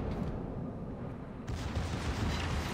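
Torpedo hits explode against a ship in a naval warfare game: a low, rumbling background breaks into a sudden, heavier burst of booming impact midway that keeps rolling afterward.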